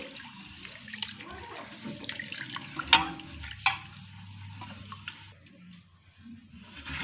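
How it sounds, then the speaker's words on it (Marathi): Home-grown rice, about a kilogram, being rinsed in clean water in a kitchen: sloshing, running water with splashes and a couple of sharp clinks, close and moderately quiet. "हे तांदूळ आमचे घरचे आहे आणि ते स्वच्छ पाण्याने धुवून घ्यायचं आहे"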